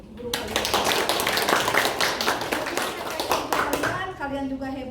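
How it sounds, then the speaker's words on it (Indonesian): Classroom applause for a teacher, many hands clapping steadily and densely for about four seconds, close and loud, with children's voices mixed in before it fades out. "Tepuk tangan untuk guru kalian."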